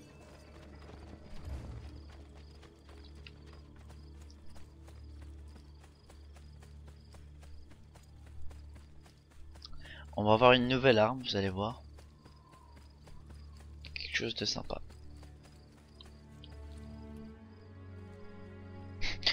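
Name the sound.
horse hooves clip-clopping in a video game (Assassin's Creed)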